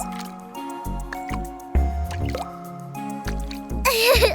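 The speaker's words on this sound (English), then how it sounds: "let's make puddle splashes with our feet" Feet stomping and hopping in shallow rain puddles make wet squishy splashes and drips in a steady rhythm under playful kids' music, with a brief brighter burst of sound near the end.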